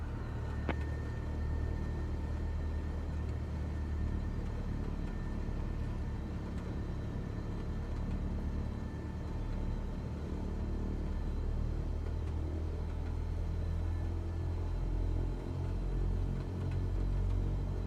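Diamond 40 light aircraft in Microsoft Flight Simulator 2020 taxiing, a steady low engine rumble and drone holding evenly throughout with no talk.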